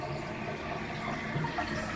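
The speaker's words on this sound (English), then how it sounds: "water stopped, no leaks, and flush" A toilet flushes after a new flapper is fitted, a steady rushing wash of water running evenly throughout at moderate level with no voices.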